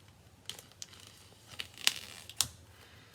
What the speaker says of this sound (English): And then bring your scissors back in and open up your package.